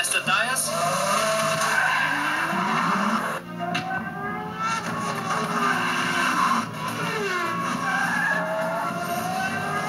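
Car tyres squeal and skid loudly during a tyre test in a racetrack-themed advert, with engine roar and long screeching slides that briefly drop out before resuming, and a voice speaking over the action.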